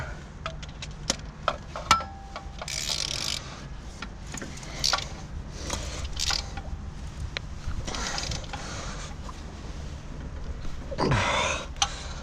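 Ratchet wrench tightening car bolts by hand, with short bursts of clicking and metallic ticks scattered among light handling noises in a quiet workspace.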